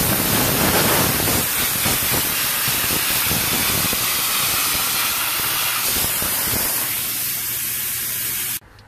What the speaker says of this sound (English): So I'm going to show you real quick what I did with the air compressor right now.